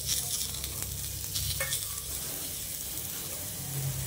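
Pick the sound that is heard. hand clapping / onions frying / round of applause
onions frying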